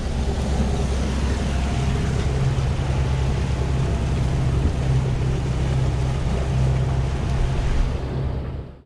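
Sailboat motor sailing on a calm sea on the passage from Mourilyan Harbour to Cairns, a steady low engine drone with constant rushing water and wind noise throughout.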